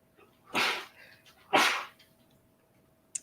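Two loud, sharp sneezes come about a second apart at close range, each a short explosive burst, with a faint click at the end.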